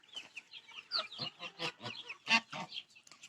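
Geese, including a gosling with a crooked neck, honk and cackle on a Ukrainian village farm in a rapid series of close, rough calls, clearly heard alone.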